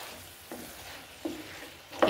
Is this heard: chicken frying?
yes